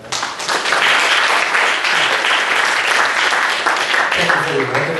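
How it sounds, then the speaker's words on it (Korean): A church congregation applauds steadily for about five seconds during a Sunday service, a dense, sustained wash of clapping that fills the room without pause. "감사의 박수를 한번 드리시기 바랍니다"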